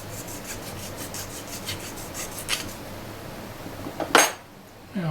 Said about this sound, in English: When you're filing, be careful of the edges